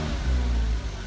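A Porsche Cayman engine with its cover removed hums steadily while the intake draws in air, a low droning growl with a breathy rush on top, close and even, lasting about a second.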